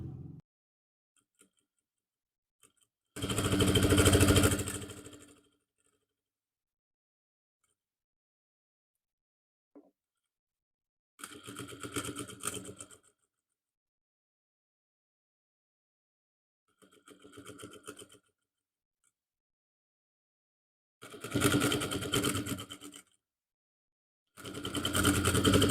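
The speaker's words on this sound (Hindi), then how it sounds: "अब इसके नेक के बिल्कुल पास से सिलाई लगाएंगे।" Sewing machine stitching along a suit neckline, heard in several separate bursts of fast, even mechanical whirring. Each burst lasts a few seconds and they are split by long silent gaps. The machine is close and clear, with no speech.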